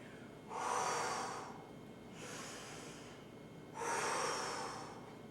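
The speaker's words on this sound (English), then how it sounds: "So breathing out, breathing in." Slow, deep breaths drawn in and let out during a gentle exercise routine, three long airy swells close to the microphone with quiet pauses between them.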